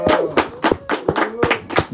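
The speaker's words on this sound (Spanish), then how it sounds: "Oye, un aplauso." A few people clap at an informal Chilean interview, slow, loose claps in irregular bursts close by, with voices and laughter mixed in.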